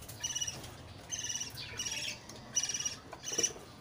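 A young chick from a harvested bird nest chirping: five or six short, thin, high-pitched peeps in a quick irregular series, faint and close against a low background rumble, with no talk.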